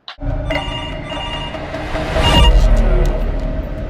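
A telephone in a film scene rings with a bright repeating bell tone over a low background rumble, fairly close and loud, with no speech.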